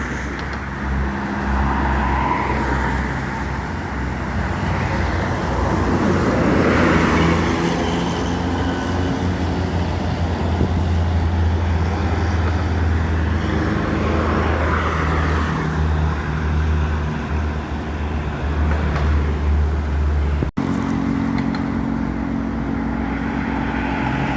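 A bus rolls down from the Musi 2 bridge with a loud, steady rumble of engine and road noise throughout, the tone shifting slightly as it descends and no one talking.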